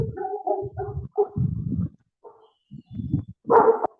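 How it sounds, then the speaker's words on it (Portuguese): A dog barks in short bursts, several sharp woofs spaced across a few seconds, fairly close and clear with no talking. "Acho que tem alguém com um cachorro latindo."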